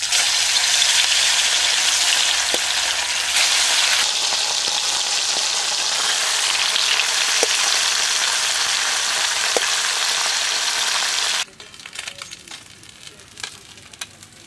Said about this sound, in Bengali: তেলটা গরম হয়ে গেছে, এবার মাছগুলো ভেজে নেব।